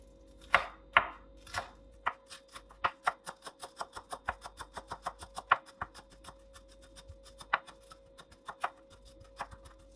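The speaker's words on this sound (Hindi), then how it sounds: "ग्रीन धनिया, ये देखें, इसको भी बारीक बारीक काट लेंगे" A knife finely chopping green coriander on a board, fast, steady run of crisp taps that starts with a few heavier strokes then speeds into a dense even rhythm, close and clear with no talking.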